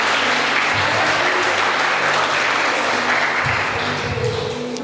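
A church congregation breaks into applause, a thick, continuous roar of clapping hands that stays loud and steady throughout, with faint voices and low tones beneath.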